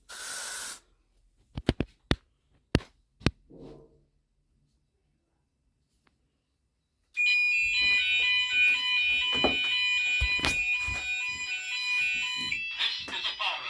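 A GENT Vigilon fire alarm system under test: a few sharp clicks and taps, a silent pause, then a loud continuous electronic alarm tone that starts abruptly and keeps going with bursts of background noise.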